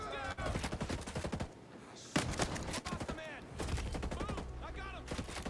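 Bursts of automatic gunfire in the Ghost Recon Breakpoint video game, with rapid volleys recurring through the clip over a steady game background and ringing tonal effects.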